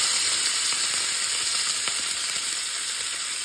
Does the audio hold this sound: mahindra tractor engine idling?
no